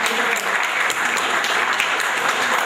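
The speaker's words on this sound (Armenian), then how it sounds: "եկեք ծափարեք մեր քավորին և քավոր կնոջը" Applause at a wedding for the godparents: dense, steady clapping from a crowd fills the whole stretch at an even, fairly loud level, with no talking over it.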